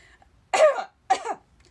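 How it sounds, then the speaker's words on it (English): Two sharp coughs, close and fairly loud, from a person with a lung condition, separated by a brief silence. "my lung condition causes coughing fits"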